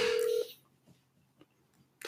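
Telephone dialing tones on a call: a loud steady tone at first, then a few faint separate beeps spaced out, with a sharp click at the end.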